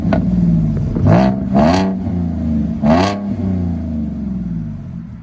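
Ford Mustang 3.7L V6 with a six-speed manual and aftermarket exhaust, heard from inside as the engine idles with a deep burble and is blipped into three sharp revs that quickly fall back.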